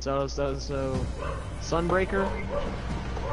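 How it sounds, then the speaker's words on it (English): A dog barks in a run of quick yips and bow-wows close by, mixed in over someone talking during a live Destiny game broadcast. "That's my dog, by the way."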